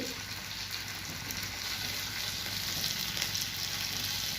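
Fish fried in oil beside a simmering vegetable biryani, a steady close sizzle and crackle with no talk.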